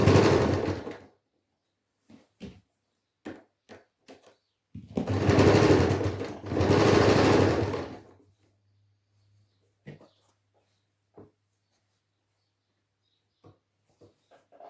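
A sewing machine stitches the sides of a pillow in two close, loud runs of a couple of seconds each, with scattered clicks and short mechanical sounds before and after.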